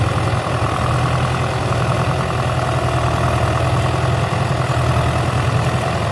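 Rebuilt Ford 881 diesel tractor engine running on its first start, a steady loud low diesel rumble with even chugging pulses, close and continuous with no talk.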